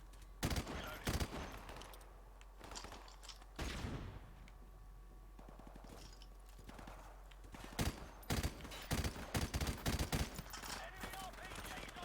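Covering gunfire in a Call of Duty Modern Warfare match: sharp bursts of automatic fire and single shots arrive in clusters, with a loud volley near the start, another around four seconds, and a dense string of rapid bursts toward the end over ambient battle noise.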